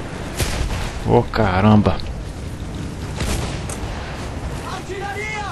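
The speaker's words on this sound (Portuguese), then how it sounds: "Artilharia!" Artillery booms out in the World War I shooter Battlefield 1, with a few heavy blasts rolling through amid battlefield noise while a soldier speaks.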